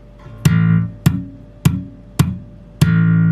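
Five bass guitar notes are plucked at an even pace, each ringing and sustaining before the next, played alone and close.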